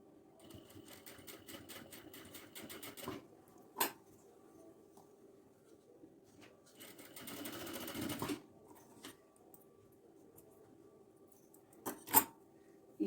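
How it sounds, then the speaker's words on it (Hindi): A sewing machine stitches a cotton kurti in quiet, short bursts of rapid clattering stitches separated by pauses, with a few soft clicks and taps between runs. "अब इधर मैं स्टिचिंग लगाऊंगी"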